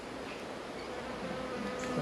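Honeybees hum around an open hive as it is fed sugar water, making a steady close buzz that holds evenly throughout with no voices.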